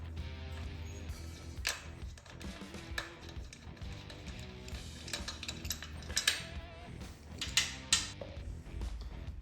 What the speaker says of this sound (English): chase the threads with this cheap little thread chaser rather than using my taps and die set